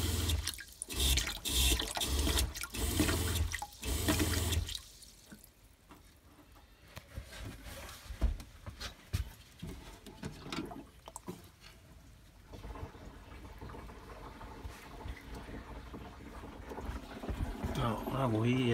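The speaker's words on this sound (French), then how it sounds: "Bon, pour le moment, j'ai que l'eau froide. Et voilà, déjà, ça fonctionne," Cold water running from a plumbed tap in a converted Peugeot Boxer van, loud splashing flow at first, then cut off to faint drips and a lighter trickle, with someone talking in French throughout.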